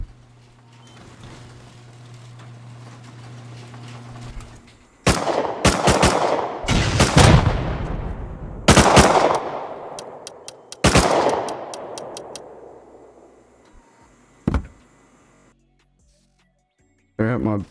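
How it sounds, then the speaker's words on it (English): Gunshots in the console survival game Rust sound as a string of loud, sharp cracks with echoing tails, spaced a second or two apart, after a quieter stretch of background hum, then one last isolated shot. "Gonna have to shoot it from here."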